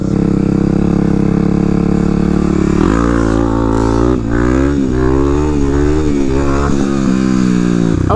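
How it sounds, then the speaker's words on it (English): Kawasaki KLX300 Supermoto on a motocross track, its single-cylinder engine idling steadily before surging into hard revving with rising and falling pitch as the rider pulls a wheelie, loud and close. "Let's do a little wheelie check on this KLX300 Supermoto before we call it a day."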